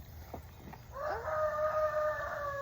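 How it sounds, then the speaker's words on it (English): A rooster crows on a family farm, one drawn-out call that starts about a second in and holds to the end, fairly close and clear over quiet background, after a couple of fainter short clucks. "Was that a rooster?"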